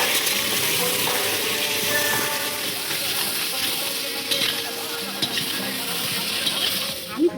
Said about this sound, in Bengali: আলুর দম ভাজতে বসে পড়েছি।